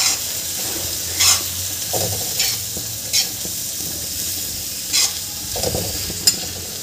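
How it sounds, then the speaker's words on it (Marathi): Dill leaves and moong dal bhaji being stirred in a pan over high heat, a steady sizzle broken by periodic scraping and clinking strokes of the spoon, close and fairly loud. "आता ही भाजी आपण छान मिक्स करून घ्यायची आहे।"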